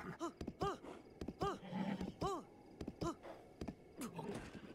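A horse in the video game Breath of the Wild snorts and whinnies in a series of short repeated calls, quiet and spaced out, with faint background sounds between them.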